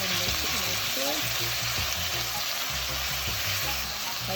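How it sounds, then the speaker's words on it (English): Vegetables, celery and herbs sautéing in barbecue sauce with ketchup and onion, a steady close sizzle and bubble with soft stirring scrapes throughout. "So my vegetable and herbs is sauteing."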